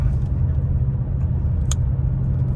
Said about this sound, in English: now that I have the valves closed, it sounds like it's like ricocheting in the muffler almost